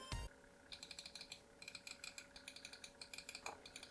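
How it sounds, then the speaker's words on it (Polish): Side buttons of an MSI Clutch GM31 lightweight wireless mouse, glossy plastic, clicked close up in quick rhythmic bursts of sharp clicks, one after another, with no talking. "Przyciski boczne, które wykonane są z błyszczącego tworzywa, ten z przodu jest mniejszy, ten z tyłu jest większy, troszkę wyżej. Jak one klikają?"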